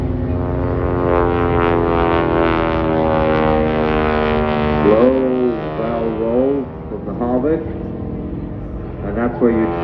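A jet performing display manoeuvres at the Blackpool air show, its engine tone drawn out and steady at first, then swooping and bending in pitch as the aircraft climbs and hangs at the top of a manoeuvre, loud and close.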